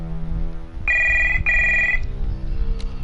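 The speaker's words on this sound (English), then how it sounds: "Behind the door, a Shit. phone starts to ring." A telephone rings behind a closed door in a video game, two clear electronic ring bursts in quick succession over a low ambient hum.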